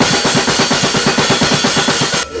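Fast blast beat on a drum kit with double bass pedals and snare hammering in rapid, even succession under washing cymbals, loud and close, cutting off just before the end.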